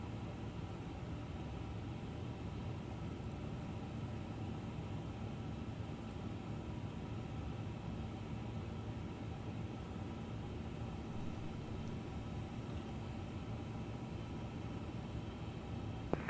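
An Airbus A350 airliner rolling down the runway for takeoff in Microsoft Flight Simulator 2024, a steady muffled engine roar and rushing noise heard from inside, even and unbroken throughout.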